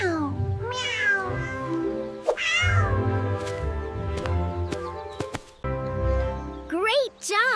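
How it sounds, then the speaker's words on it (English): A domestic cat meows several times in a row, close and clear, its rising and falling calls spread across the clip with short pauses between them. "This is a cat."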